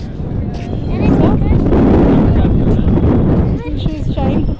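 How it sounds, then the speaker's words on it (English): Strong wind blasts across the Ram Jhula suspension bridge over the Ganga, a loud continuous roar hitting the microphone while people talk close by. "It is too windy."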